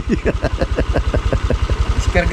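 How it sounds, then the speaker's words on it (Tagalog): Motorcycle engine idling close by, left running after hard starting, giving a steady loud pulsing putter with even rhythmic beats throughout and a brief tonal sound near the end. "Naandar pa rin yung motor, di namin pinapatay"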